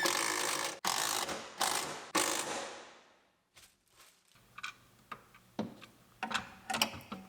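A ratchet wrench bolts a seat belt part into a 2019 GMC Sierra Denali, with several rapid clicking pulls first, then a pause and lighter, scattered clicks and mechanical taps up close.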